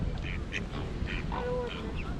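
Ducks quack in a London park during the Christmas season. A few short, raspy quacks rise over a steady outdoor background hum.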